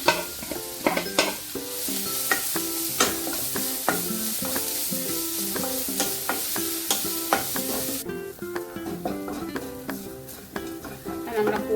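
Whole spices such as fenugreek, fennel seed and peppercorns fry in hot oil for a Kerala-style fish curry, giving a steady sizzle with repeated stirring clinks and scrapes of a spoon in the pan throughout.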